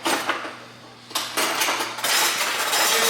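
Cabbage being stirred in a cooking pot, with a spoon scraping and clinking against the pot in short bursts that grow louder and busier toward the end, with no talking.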